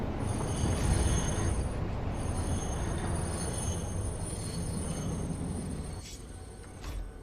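A train running on track in the factory-building game Satisfactory, a steady rumbling roll with faint squeals of the wheels, continuous and fairly close for the whole stretch, with no talk over it.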